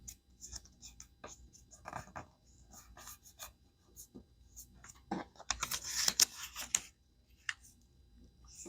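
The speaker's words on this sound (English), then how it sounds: "Fold the lower left and right corners up toward the center." Paper being folded by hand into a paper figure, a series of close, crisp crinkles, creases and soft rustles scattered irregularly, with a louder burst of crackling in the middle, and no talking.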